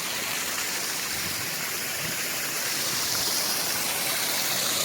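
A rocky waterfall at a hidden spot in Koraput pours over stone with a continuous broadband rushing hiss, steady and fairly loud throughout with no voices.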